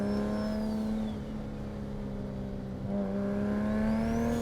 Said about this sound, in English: the amount of just noise that you get from this turbo is honestly louder than most like Rice Rocket Civics that are trying to be loud